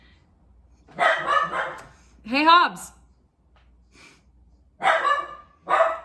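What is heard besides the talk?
dog barking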